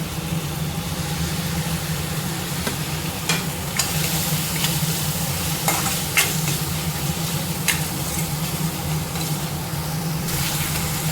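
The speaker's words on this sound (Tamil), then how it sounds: "பாருங்க தக்காளியும் நல்லா குழைவாக நல்லா வதங்கிடுச்சு" Chopped tomatoes sauté with ground masala in a pan for egg gravy: a continuous close sizzle, broken by a few sharp scrapes and taps as the spoon stirs.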